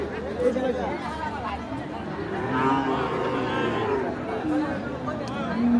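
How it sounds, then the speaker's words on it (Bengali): Cattle lowing amid a busy crowd at a muddy village cattle market, with deep moos rising over steady chatter and people talking nearby in an outdoor market bustle. "এখানে খুব সুন্দর সুন্দর কিছু গরু আছে"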